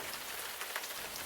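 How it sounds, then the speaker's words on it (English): Steady rain patters and hisses on a surface outside during a windy storm, a soft continuous wash of drops with no voices. "it's getting stormy and windy outside."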